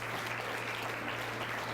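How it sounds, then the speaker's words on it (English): Quiet, distant clapping from a lecture audience after a walking demonstration, a brief, even patter with a steady low hum beneath it. "give them a round of applause"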